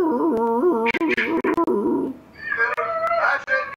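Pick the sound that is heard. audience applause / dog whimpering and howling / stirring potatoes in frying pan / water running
dog whimpering and howling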